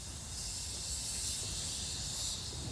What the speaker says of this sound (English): Loco 752 hasn't generated steam in 34 years, and Callum has rigged up a whistle valve as